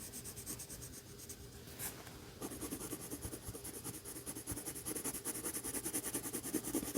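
A pencil colouring in a football drawing in layers makes steady close scratchy strokes on paper, with a faint background hiss and no talking.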